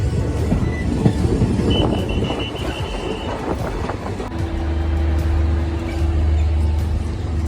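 A train on the Banihal to Srinagar line in Kashmir rumbles into Anantnag station, with loud rolling rail noise and rattling that settles into a steady low engine hum as it slows, no talking.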